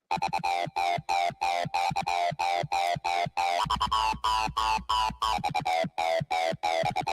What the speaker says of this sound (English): Play the bass alone so you can hear that.